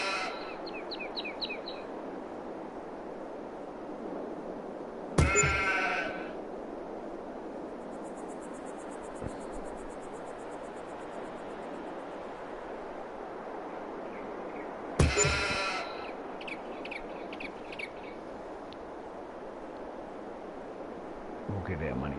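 Sheep bleats in the Farming Simulator video game, two brief loud calls about ten seconds apart over a quiet outdoor farm ambience with faint bird chirps between them.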